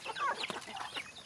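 Farm chickens clucking close by, a short burst of overlapping cackles and calls that fills the whole brief moment.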